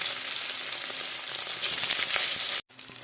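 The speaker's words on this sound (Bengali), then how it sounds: "আমার পনিরগুলো সব দিয়ে দেবো এক এক করে, লাল লাল করে ভেজে নেবো পনিরগুলো" Paneer pieces frying in hot oil in a kadai give a loud, continuous close sizzle that swells partway through, cuts out briefly near the end and then returns.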